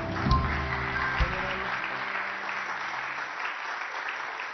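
Studio audience on a Turkish daytime television show applauding a contestant couple, a broad wash of clapping that starts loud and tapers off gradually, with music briefly underneath at the start.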